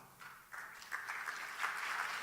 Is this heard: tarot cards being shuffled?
no